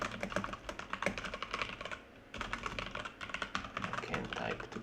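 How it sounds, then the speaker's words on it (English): Rapid clattering keystrokes on a computer keyboard during coding, close and fairly quiet, in steady bursts with a short pause midway, no one speaking. "I can't type today, making many mistakes."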